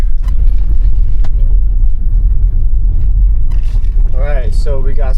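Tesla van rolling over rough off-road ground after rain, a steady low rumble and vehicle noise throughout with occasional knocks, and people talking toward the end.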